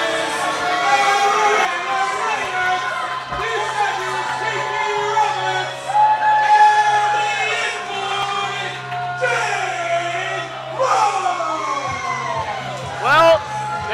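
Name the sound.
wrestling crowd booing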